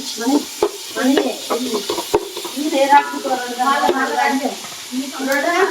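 Onions and masala frying in a pan, with steady sizzling and repeated scraping and clinking of a spoon stirring against the pan, while people talk nearby.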